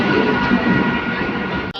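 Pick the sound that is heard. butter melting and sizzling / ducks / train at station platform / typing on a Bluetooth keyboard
train at station platform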